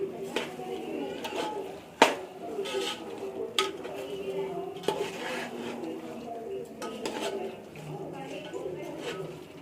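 A spoon stirs mutton pulao with rice and salt in a cooking pot, giving scattered scraping clinks and one sharp knock, under a voice speaking throughout.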